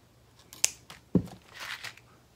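Cutters snip off excess fishing leader wire on a dual-hook live-bait rig, giving a few sharp, close clicks and a snip followed by faint rustling.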